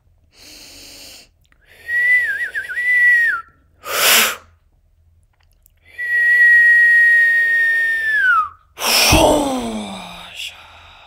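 Several sustained high whistles during a French new-moon guided meditation with light language, some steady and some wavering, alternating with breathy gasps and exhalations close to the microphone.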